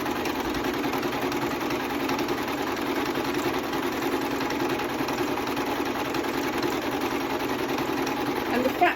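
A sewing machine stitches lines through fabric for a sunglasses pouch, a steady close-up mechanical whir that runs continuously and stops abruptly at the end, with a voice talking over it.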